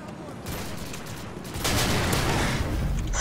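Rapid bursts of gunfire in Modern Warfare 2, a steady crackle of shots that grows louder and denser partway through, with a player's voice faintly underneath.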